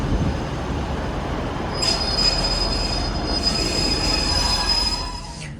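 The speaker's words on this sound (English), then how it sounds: "And we're now departing Manchester, Victoria." A two-coach Northern Rail class 156 diesel unit departs Manchester Victoria with a low rumble, then high, thin wheel squeals ring out in bursts over the moving train before fading near the end.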